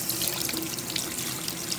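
A kitchen tap runs steadily as neck bones are rinsed in the sink, giving a continuous close hiss of splashing water with small irregular spatters.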